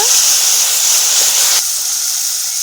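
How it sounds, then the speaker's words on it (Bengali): A spice masala with salt hisses loudly in a pan after a splash of water is added, a close, dense steamy sizzle that eases slightly partway through. "সামান্য একটু জল দিয়ে মশলাটা ভালো করে কষিয়ে নেব।"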